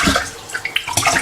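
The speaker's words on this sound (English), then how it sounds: "Put some water in that rice pot and stir it and wash it and rinse it." Water swished and splashed while rinsing rice in a pot, close and fairly loud with brief sloshing bursts.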